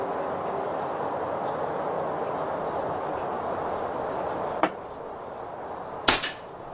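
A Lancet Mk9 regulated PCP air rifle, regulator set at 71 bar, fired over a chronograph: a faint crack, then a louder, sharp shot near the end over a steady background hiss.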